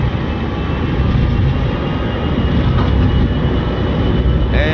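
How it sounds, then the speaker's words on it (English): Thrust reversers on a FlyJSim Boeing 727-200 in a flight simulator, a loud, steady broadband roar that holds for several seconds without easing. "And a bit of reversers."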